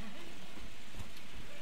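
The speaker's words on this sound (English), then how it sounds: "Here comes the rain again." Steady rain in the video game Left 4 Dead 2 hisses across the whole moment, a dense wash of falling drops with a faint low rumble underneath and no voices.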